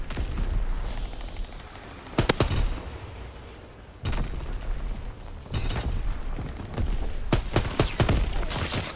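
Battle in a World War II shooter game, with repeated bursts of rapid gunfire and booming shots in clusters, close and loud, broken by short quieter gaps.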